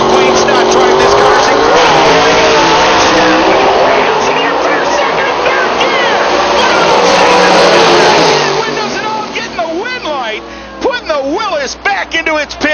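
A gasser drag race car at a 2014 Rockingham PDRA event roars loudly and continuously for about eight seconds, then drops away as an announcer talks over the fading engine.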